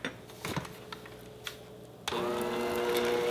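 Electric mixer starts abruptly and whirs steadily, beating dairy-free whipping cream into vegan American-style buttercream for a vanilla sheet cake, after a couple of soft kitchen clatters.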